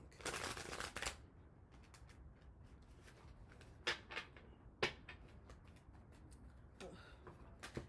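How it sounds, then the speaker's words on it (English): Thick cards being shuffled in bursts of papery riffling and slapping, with a long riffle at the start and a few sharper snaps later, close by. "These cards be so thick sometimes. It's so hard to shuffle them"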